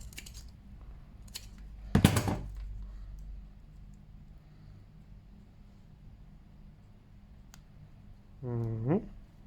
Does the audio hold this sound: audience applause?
no